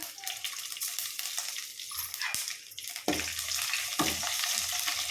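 Fenugreek seeds fry in hot oil for a buttermilk curry, a steady close sizzle running throughout with occasional stirring scrapes and a brief louder burst near the middle.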